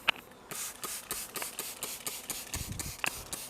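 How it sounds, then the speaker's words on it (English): Quick hissing squirts from a trigger spray bottle of cleaning solution onto car seats repeat in a steady rhythm, about a dozen short bursts, fairly quiet and close. "you just spray some solution onto the seats"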